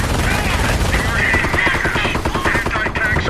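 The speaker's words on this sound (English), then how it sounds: "Base is under enemy fire." Continuous gunfire hitting a base in the WWII strategy game Company of Heroes, a fast rattling patter of machine-gun and rifle shots over battle noise, with a voice talking over it.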